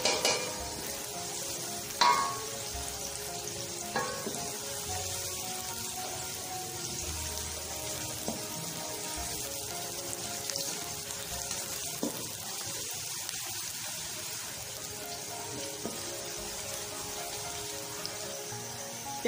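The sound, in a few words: onions frying until brown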